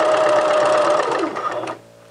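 A sewing machine stitches around a dress seam, a loud steady whirring hum that slows and stops near the end.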